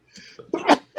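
A single close, sharp sneeze from a person in a studio chat, a short breathy build-up followed by a quick explosive burst.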